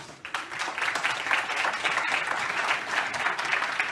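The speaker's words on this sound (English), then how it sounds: "A big applause" Steady, moderately loud applause from an audience at a digital talent summit award moment, many hands clapping continuously and fairly close.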